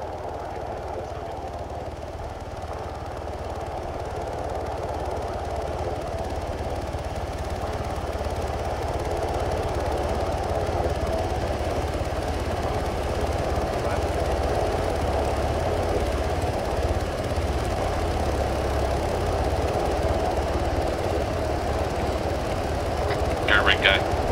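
Helicopter in the military video game ARMA 3, a continuous low rotor and engine drone that holds steady and close throughout, with voices talking over it.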